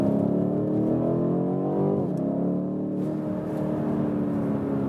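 A BMW M850i coupé engine pulls hard under throttle. A loud, steady, deep engine drone rises in pitch, dips briefly at a gear shift, then climbs again with sustained power.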